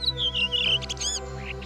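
Bright bird chirps and trills at dawn in the savanna, several quick calls overlapping close by over a steady low hum.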